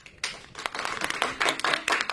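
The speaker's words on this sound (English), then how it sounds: "Let's give them a round of applause." A small group claps briefly for a debate team in a virtual school debate, a short run of sparse, uneven hand claps close to the microphone.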